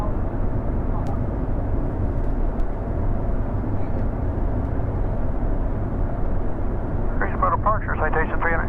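A Cessna Citation M2 jet climbs after departure from Greensboro (GSO), heard from inside as a constant loud, dense cabin roar, with a radio voice crackling in near the end.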